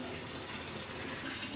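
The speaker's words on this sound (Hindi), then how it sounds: "तो हम आप भर रहे हैं पानी" Water gushing steadily into bottles at a village water filtration plant in Punjab, a continuous broadband rush that stays even and moderately loud throughout, with no voices.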